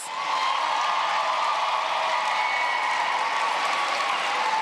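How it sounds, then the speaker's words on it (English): Continuous applause from a big audience at a graduation ceremony, loud and even throughout with no pauses. "Please give those scholars another round of applause."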